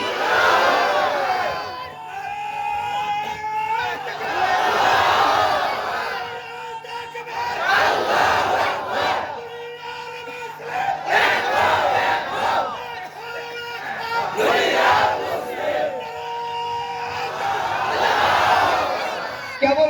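A large crowd at an Islamic sermon roars the takbir in unison, in loud chanted bursts that repeat every few seconds with brief quieter gaps between them.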